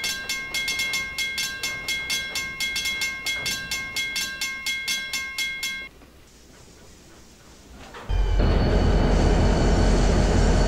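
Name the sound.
Carrabassett Valley Railroad train coasting and slowing down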